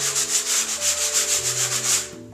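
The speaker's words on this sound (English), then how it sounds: "we're just going to rough it up between coats to give the second coat something to stick onto" Fine sandpaper is rubbed by hand across polyurethane-coated wood between coats, giving about a dozen quick, even back-and-forth rasping strokes, close and clear.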